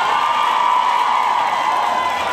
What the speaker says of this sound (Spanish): Mi banda, para quien pido un fuerte aplauso